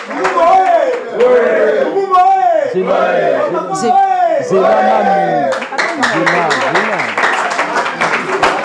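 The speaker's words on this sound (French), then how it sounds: "Est-ce qu'on peut applaudir très fort pour Germain Wakakolo?" A finale audience at a school talent competition cheers and claps loudly for a finalist. Shouting voices rise and fall over continuous clapping that swells toward the end.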